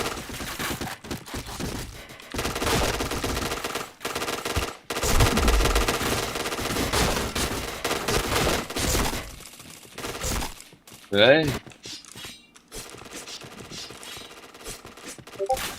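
Rapid automatic gunfire in a shooting video game, long dense bursts with brief breaks and a shattering hit near the end, loud and up close.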